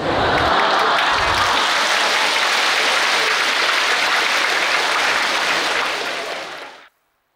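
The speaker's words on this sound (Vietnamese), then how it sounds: "Các bạn nghĩ gì mà các bạn vỗ tay?" An audience at a summer retreat Dharma talk claps in loud, sustained applause that fills the whole stretch and then cuts off abruptly at the end.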